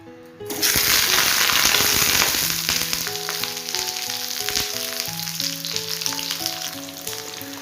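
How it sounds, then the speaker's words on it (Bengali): Washed pointed gourd pieces dropped into hot mustard oil, bursting into a loud sudden sizzle that keeps crackling steadily and slowly eases over several seconds, with a few faint clinks under it. "এই যে পটলগুলো ভালো করে ধুয়ে জল ঝরিয়ে নিয়েছি, এবার এটা দিয়ে দেবো তেলের ওপরে"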